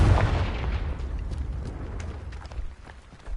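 A Confringo fire-blast spell explodes in Hogwarts Legacy, a loud booming burst up front that fades into a rumbling, crackling tail with scattered small pops.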